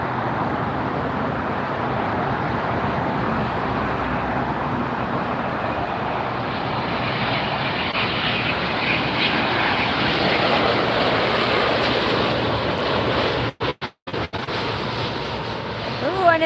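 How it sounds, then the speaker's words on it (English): An ANA Boeing 787-9 Dreamliner from Tokyo Haneda lands at LAX, its engines making a loud sustained jet roar that swells slightly as it passes close, with brief dropouts near the end. "This is the ANA Flight 126, a 787-9 Dreamliner coming in from Tokyo,"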